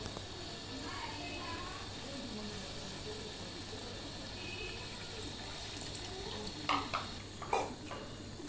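Tamarind eggplant gravy poured into a pan and stirred, a soft continuous bubbling hiss with liquid sloshing and a few light clinks of a utensil near the end, while someone talks faintly over it.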